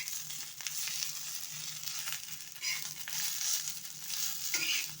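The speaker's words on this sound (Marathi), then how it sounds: "आता आपण या चांगले हलवून घ्यायच्या मिरच्या." Green chilies stirred and dry-roasting in a pan give a steady close sizzle with soft scraping strokes, brighter crackles rising every second or two, and no talking.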